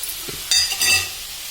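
Cabbage fry with ginger, coconut, turmeric, chilli powder and salt sizzling in a pan, close and steady, with a couple of brief stirring scrapes and clinks over the frying hiss.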